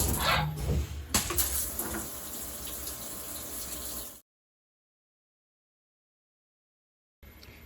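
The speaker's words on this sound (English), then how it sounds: "this particular pump right now on this lathe is the 8th horsepower, so it's the small pump, and still get plenty of adequate coolant flow" Coolant flowing from the small eighth-horsepower pump on a Haas toolroom lathe, a steady splashing water rush lasting about four seconds, then cutting to silence before a brief return at the end.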